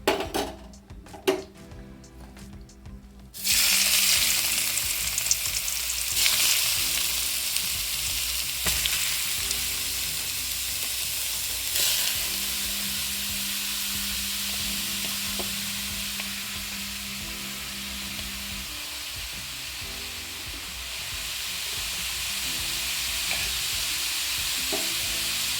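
White pumpkin is stir-fried in a pan for halwa, giving a steady, moderate sizzle with occasional scraping stirs, preceded by a few brief clinks at the start.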